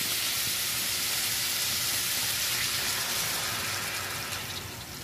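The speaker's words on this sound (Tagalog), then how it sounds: "pwede na natin itong lagyan ng tubig" Water pours into a pan of pork and string beans being cooked into adobo, making a steady, loud rushing sizzle that trails off slightly toward the end.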